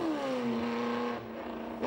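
An Alfa Romeo race car drives a rally stage during the 2003 Tour Auto, its engine holding a steady, loud droning note that eases slightly near the end, heard close with no talk.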